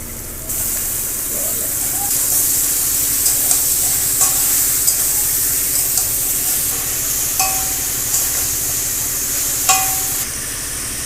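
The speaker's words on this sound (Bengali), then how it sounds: "পেঁয়াজটা যে ভেজে নিয়েছি এর মধ্যে মাংসটা দিয়ে দেবো এবার" Chicken meat tipped into a pan of deep-fried onions, hissing and sizzling loudly and continuously, with occasional clinks of a utensil against the pan.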